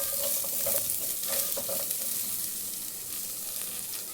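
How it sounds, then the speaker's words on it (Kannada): Native onions fry in a pan for a Sunday mutton curry, a continuous bright sizzle with a few clustered stirring scrapes early on, close and fairly loud, no voices. "ನಾನು ನಾಟಿ ಈರುಳ್ಳಿ ಹಾಕೊಂಡು ಉರಿತಾ ಇದ್ದೀನಿ ನೋಡಿ"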